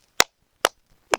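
Three sharp dry cracks spaced about half a second apart, loud and close in otherwise near silence, used as a comedy missile-launch sound effect.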